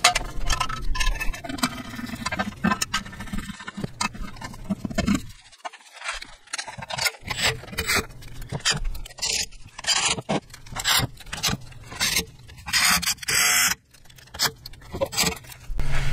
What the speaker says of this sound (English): I'm just gonna line up the gasket and then start lining up the bolts